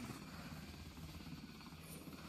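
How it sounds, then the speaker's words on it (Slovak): A helicopter in Roblox keeps up a faint, steady rotor chop and engine whir, continuous and fairly distant, with no voices over it. "Miloško, ja tu mám helikoptéru."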